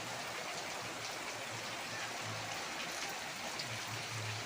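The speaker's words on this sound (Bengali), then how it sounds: "বাংলা গেটের সামনে থেকে প্রচুর বৃষ্টি হচ্ছে" Steady rain falls in an even, dense hiss, heard at moderate distance with no voices.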